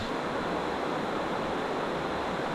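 River water fed by cold springs in Antique, Philippines, a steady broadband rush of flowing water with no breaks, fairly loud and close, no voices.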